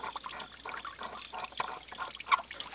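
Water from a ram pump delivery pipe trickles and drips in an uneven, close-up patter, with small splashes and gurgles and no one talking.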